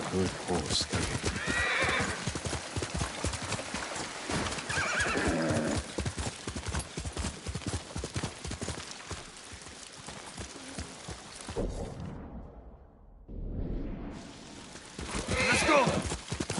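A horse gallops with steady clip-clop hoofbeats and neighs loudly several times in the game Ghost of Tsushima, set against continuous game sound, with speech heard over it.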